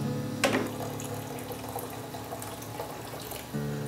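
Water sprays steadily from a hose with a valve onto a sieve holding veligers, a close hissing splash with a brief louder burst near the start and a slight change near the end.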